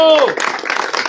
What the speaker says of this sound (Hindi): तालियां बजाकर जो है भाई का हौसला अफजाई किया जा रहा है।